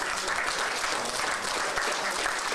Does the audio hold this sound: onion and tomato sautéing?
no